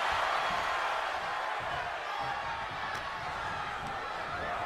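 Crowd at a live wrestling show in Manhattan: a dense, continuous roar of cheering and yelling from a large audience, with a faint voice beneath it.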